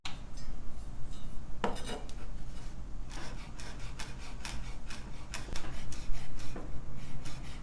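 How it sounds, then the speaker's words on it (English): Knife chopping a rolled stack of fresh herb leaves on a cutting board, giving a steady run of quick, close taps and scrapes with a few louder strokes, with no talking. "Chop them up and then fluff them out after to separate the strips."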